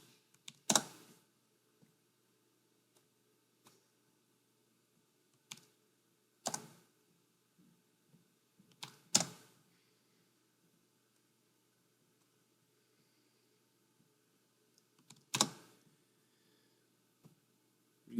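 Fingers tapping on a computer keyboard in a quiet room, with sparse, irregular clicks and short bursts of keystrokes spread across the stretch, close and fairly faint.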